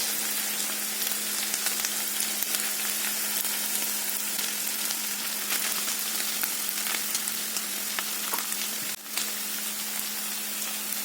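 Prawns frying in oil with ground coconut paste added for a Kerala prawn thoran, giving a steady, close sizzle that holds evenly throughout, with one brief sharp clatter near the end and no voices.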